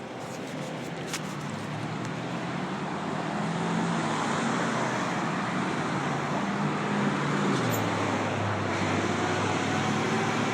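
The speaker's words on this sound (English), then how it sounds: "The traffic is driving up on me." Road traffic drives past a pedestrian at a bus stop, a broad steady rumble that swells slightly as vehicles approach, heard up close without voices.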